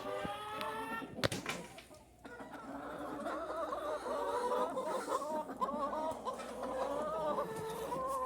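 Chickens clucking and murmuring close by in a steady, busy chorus, with a few sharper calls rising over the flock, near a chicken coop.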